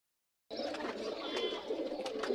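After a short silence, a Pakistani Giribaz pigeon coos up close in a low, rolling murmur that continues to the end.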